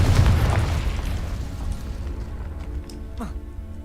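The Confringo explosive spell in the Hogwarts Legacy video game goes off as a heavy, low boom that slowly rumbles and fades, followed by faint scattered debris sounds.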